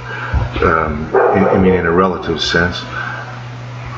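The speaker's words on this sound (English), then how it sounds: "Sorry about the dog in the background." A dog barks and yips in the background while someone talks over it, the barking brief and mixed beneath his voice.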